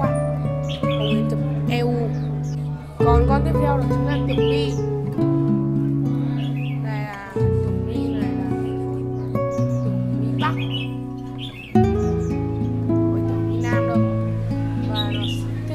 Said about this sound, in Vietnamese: hồng yến đây là hồng yến nhập eu nhá